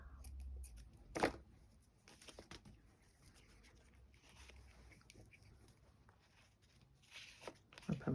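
Scissors cutting paper in a journal-making craft session: a few sharp snips and crisp rustles, close but faint against a quiet room, spaced irregularly.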